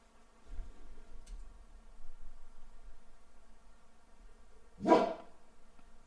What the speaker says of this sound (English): No barking, buddy.